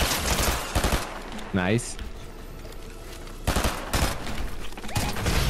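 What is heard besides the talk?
gunfire in the video game Gun Wars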